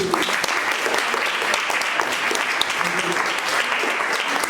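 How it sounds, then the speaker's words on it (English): A graduation party audience applauds a graduate in a dense, steady round of clapping, with some voices mixed in. "So let's give a round of applause to Arushi."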